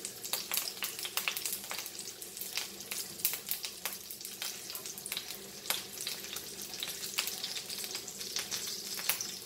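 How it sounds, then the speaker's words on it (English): Goan sausages coated in rava fry over a slow fire, giving a steady close crackle and sizzle with dense, irregular pops throughout and no voices. "So fry this on a slow fire."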